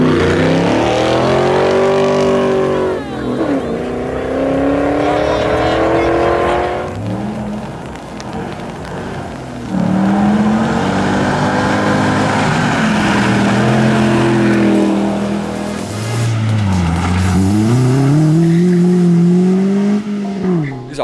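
A Peugeot 206 GTI rally car of about 136 hp revs hard and accelerates through gears at a rally, engine pitch rising and falling loudly and close, with a voice speaking over it.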